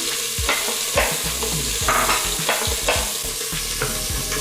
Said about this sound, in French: on va faire revenir le gingembre et les oignons